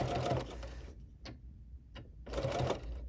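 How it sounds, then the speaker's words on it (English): A BERNINA sewing machine with a binder attachment stitches in two short bursts of steady rapid whirring, separated by a pause with faint clicks, close and alone. "I'm only going to stitch a little bit here"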